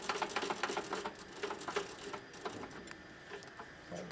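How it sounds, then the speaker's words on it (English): The carriage of an Advent 300 labeler is adjusted by hand, giving a run of quick mechanical clicks and ticks that start stronger and fade to sparse, faint taps, close up with no voices. "So what I'm going to go ahead and do is adjust the carriage"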